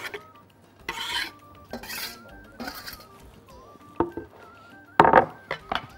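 A spoon stirring onion, cinnamon and garlic in a pot, giving several scraping, rasping strokes with clinks of metal against the pot, the sharpest strikes near the end, with no speech.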